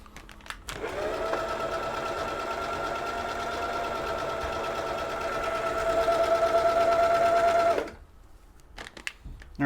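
An old Husqvarna sewing machine runs a decorative stitch in one steady stretch of about seven seconds, a close, even mechanical whir with a constant hum, then stops abruptly before a few light clicks and handling noises.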